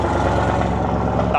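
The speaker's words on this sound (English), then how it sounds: "there's some quite loud cars. There's one coming out now." A loud car engine rumbles steadily as the car drives out of a busy dyno workshop, a deep continuous drone close by with no break.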